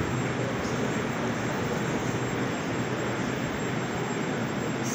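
A Moscow metro train on the Big Circle Line pulls into Savyolovskaya station, a steady, loud rumbling roar of wheels and motors that holds evenly throughout without pauses.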